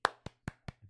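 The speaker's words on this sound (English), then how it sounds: "I give him claps" A single person claps five sharp, evenly spaced times in quick succession, close and fairly quiet, with no other sound around them.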